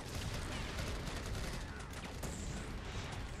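Rapid bursts of gunfire and explosions in The Avengers video game as Iron Man fights, dense, continuous and fairly quiet, filling a short noisy stretch of combat.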